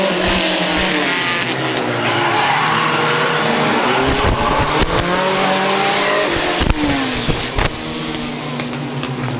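Stock compact race cars roar continuously around the oval at Midvale Speedway, engines loud and near, with tires squealing in rising and falling tones throughout.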